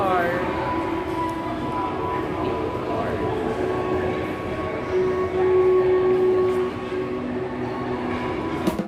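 Steady mechanical rumble with a thin whine while riding the Sapa cable car up toward Fansipan, Vietnam; a continuous drone with faint voices in the background.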